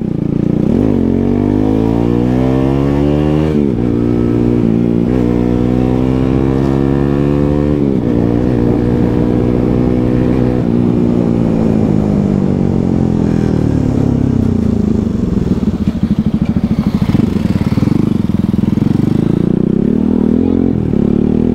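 A Honda NX 200 motorcycle being ridden: a loud, close engine drone that rises and falls with throttle and gear changes, with some wind rumble throughout.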